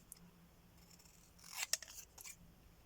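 Scissors snipping through paper while cutting out a craft piece for a distress oxide ink tag: a quiet room, then a short cluster of crisp close snips about halfway through, followed by a few fainter cuts.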